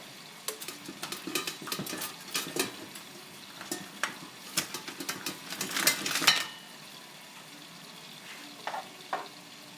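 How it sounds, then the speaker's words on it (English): A spoon stirs nuts in a pot, giving scraping, clattering strokes over a light sizzle, busy at first, then settling into a few scattered knocks near the end. "I'm going to grab a spoon to stir it"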